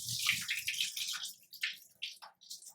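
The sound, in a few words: washing black gram lentils with water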